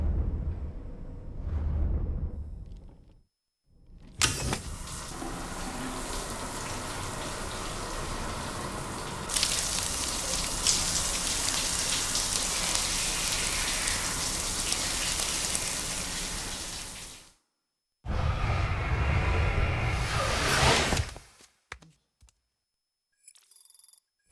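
Steady rain falls in the video game Death Stranding 2, a dense hiss of drops that cuts in and out abruptly with brief silent gaps, loud and close throughout.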